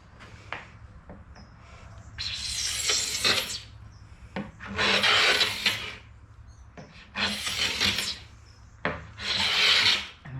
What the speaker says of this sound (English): And so we'll just start scraping here and see how it goes.